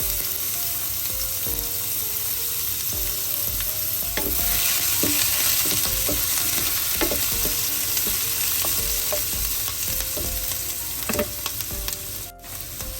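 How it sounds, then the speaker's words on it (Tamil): Mustard seeds, fennel seeds, curry leaves and crushed garlic crackling in hot oil, a dense continuous sizzle with scattered pops and a few stirring scrapes, close and loud with no talking. "கடுகு பெருஞ்சீரகம் பொரிஞ்சோண்டு வர இந்த கருவேப்பிலையை சேர்ப்போம்"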